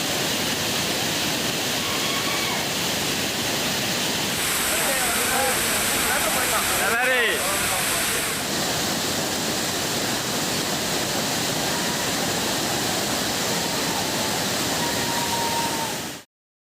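A steady, dense roar of rushing water from waterfalls, the main falls and Cini falls, loud and continuous throughout without a break.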